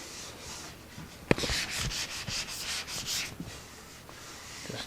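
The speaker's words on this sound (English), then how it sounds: "Just knocking those little" Fine sandpaper rubs across the shellac finish of a 1964 Gibson ES-335 replica guitar to knock down small burry nibs, a soft steady scratching in short repeated strokes with a sharp tap near the start.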